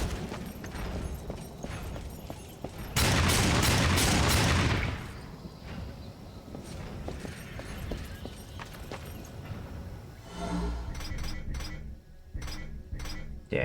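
Gunfire from a gun wielded in the video game Darksiders 2, once belonging to Death's brother Strife: a dense, loud volley of rapid shots, then a quieter stretch and a few sharp, spaced shots near the end.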